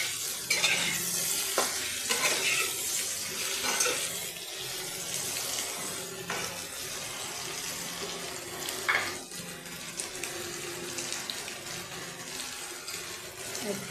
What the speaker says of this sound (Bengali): এক চামচ হলুদ গুঁড়ো হালকা একটু ভেজে নিয়েছি আলুটা একটু